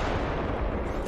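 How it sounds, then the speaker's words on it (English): Dense, continuous gunfire in the battle royale game Apex Legends, a loud, sustained roar of shots filling the whole moment with no talk. "I'm shooting, bro."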